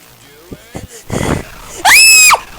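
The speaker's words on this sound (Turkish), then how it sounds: "ben nasıl böyle çığlıklar atıyorum onu da bilmiyorum ama" A player of a Hello Neighbor horror game, Baldi mode, lets out a sudden, piercing, high-pitched scream after a few short vocal sounds and a rougher burst of noise nearby.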